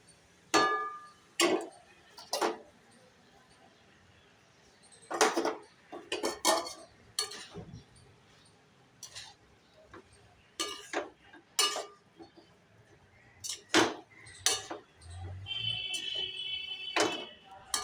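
A spoon scrapes and clinks against a pan in separate, irregular strokes while black pepper and garam masala are stirred into a coconut and banana-flower curry. Between strokes there are quiet gaps with faint background sound.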